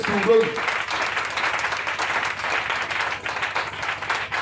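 Church congregation at a sermon clapping and acclaiming loudly, with dense sustained applause and voices calling out over it, following a brief spoken phrase at the start.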